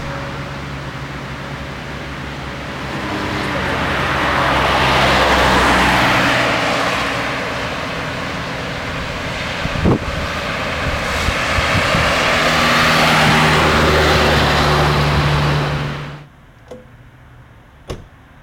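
A car on the way to a polling station makes a steady, loud engine and road roar that swells and holds for about sixteen seconds, then cuts off abruptly, leaving a few faint knocks.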